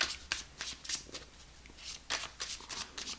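A deck of tarot cards is shuffled close by in a quiet room. Quick riffling bursts come in an uneven rhythm with short gaps between them, and there is no talking.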